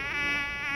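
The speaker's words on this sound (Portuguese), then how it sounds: "Mata esse mosquito aí, Walter Frota." A close, steady whine of an Aedes aegypti mosquito in flight in a hot spot in Parintins, Amazonas, holding a thin, continuous buzz with slight pitch wavers and no voices.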